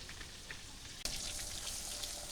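Okra frying slowly in a pan in a village kitchen, a steady soft sizzle that jumps to a louder, denser crackle about a second in and holds there, with no talking.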